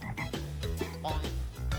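A frog croaks in a quick series of about eight throaty calls at a steady rhythm, close and fairly loud, with no talking.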